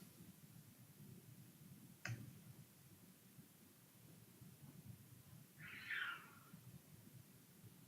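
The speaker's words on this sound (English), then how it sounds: "a cat that's outdoors" A cat outdoors lets out a single faint meow heard at a distance from inside a quiet room, after a sharp click, over low steady background hum.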